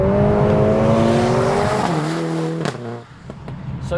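A 500 bhp Mercedes-AMG A45 S engine, heard from inside with the sunroof open, holds a loud sustained drone whose pitch climbs through the gears. It drops sharply on a shift or lift-off, followed by pops and a lower rumble.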